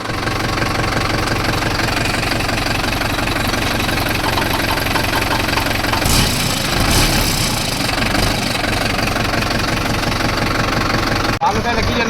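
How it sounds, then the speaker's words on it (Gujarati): A farm tractor engine idling and running nearby, a steady low knocking diesel chug that continues throughout with a brief rough burst midway, with people talking over it at times. "તો ચલો હવે જઈએ આપણે ટ્રેક્ટર હાંકવા."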